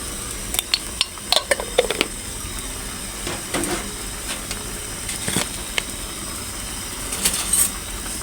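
Pork belly curry with Thai pea eggplants being stirred in a pot after water is added, giving scattered scraping and clinking of a utensil against the pan over a faint sizzle, close and moderately quiet.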